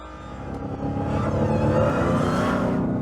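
A Dodge SRT Hellcat with a supercharged engine accelerates hard down a drag track in track mode, its loud engine roar building steadily in pitch and volume over a few seconds, close and continuous with no voices.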